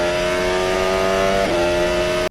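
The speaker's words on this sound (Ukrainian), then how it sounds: "де вже буде чути звук мотора" A loud, steady high-revving Formula 1 car engine roars continuously, its pitch dipping briefly partway through before holding high until it cuts off abruptly.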